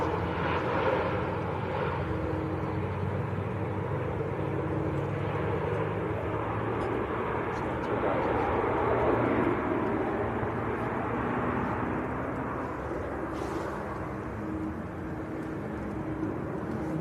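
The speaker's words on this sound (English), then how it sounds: "There's the EasyJet from Malaga." An EasyJet airliner from Malaga passes at Manchester Airport, a steady distant engine rumble that holds level throughout with a little outdoor noise on top.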